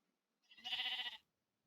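A single Minecraft sheep bleats once, clear and close, lasting about a second with silence on either side.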